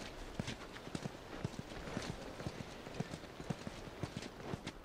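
A horse's hooves clip-clop at a steady walking pace in the video game The Last of Us, a continuous rhythm of distinct, moderately close hoofbeats over a hissing ambient background.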